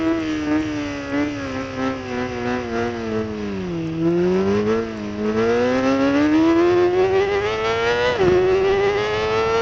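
A 2004 Kawasaki ZX-6R engine revs loudly and continuously through an aftermarket Arrow exhaust with a raspy tone, pitch dipping then climbing, with a sharp blip near the end.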